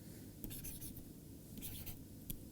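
Chalk or pen writing out a math formula by hand during a lecture, with faint scratchy strokes in short clusters over a steady room hum.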